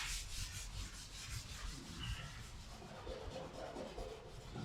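A Scotch-Brite pad scuffing the cab corner metal of a 1959 Apache truck, a continuous close rasping rub in quick back-and-forth strokes, fairly quiet and alone.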